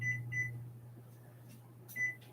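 A kitchen timer set for 20 minutes while making soda bread gives two quick high beeps, then a single beep a moment later, over a low steady hum in a quiet room.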